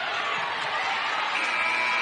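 Arena crowd at a Missouri versus Auburn college basketball game roars steadily in approval of Missouri, a broad, loud wash of cheering and shouting filling the space without a break.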